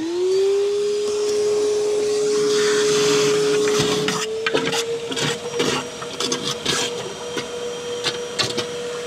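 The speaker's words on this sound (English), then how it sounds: "I'm going to use my regular shop vac or wet vac, whatever you name it, to vacuum the water from in there" A shop vac, or wet vac, sucks water out of an in-floor cleaning system, first as a loud steady roar with a rising motor whine, then breaking into uneven gurgling and slurping bursts.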